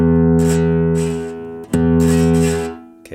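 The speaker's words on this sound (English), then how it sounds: "what's happening there is the pick is touching the string" Low E guitar string struck with a pick in a rest stroke, the pick touching the ringing string and muting it for an unclear tone; two sustained plucked notes, close and fairly loud, with a brief buzzy break between them.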